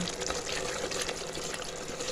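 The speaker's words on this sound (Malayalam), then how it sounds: "ഇനി ആവശ്യത്തിൻ്റെ വെള്ളം ഒഴിച്ചു കൊടുക്കട്ടെ" Water poured into a pot for egg manthi, a steady, fairly close gushing splash that keeps an even level from start to finish, with no talk.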